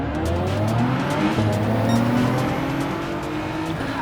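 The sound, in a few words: race cars at a grid start in video game Gran Turismo 7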